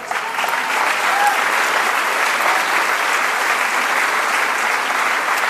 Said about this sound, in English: But please a round of applause for him as well.